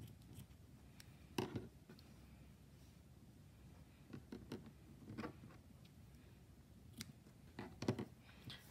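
Scissors snip excess yarn from a crocheted toddler beanie, a handful of soft, close, irregular cuts and small handling clicks spread out against a quiet background.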